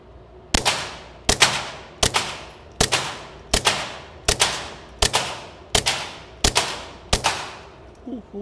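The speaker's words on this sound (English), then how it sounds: "Run this last mag of subsonic through the Glock factory bag." Nine evenly spaced suppressed shots from a Glock 44 firing subsonic .22 rounds through a Huxwrx 22 Ti suppressor at a range, each a sharp close crack with a short decaying tail, roughly one per second.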